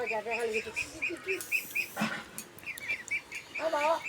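Repeated quacking calls of ducks in short bursts, with some chirps and brief talk or movement noise in between.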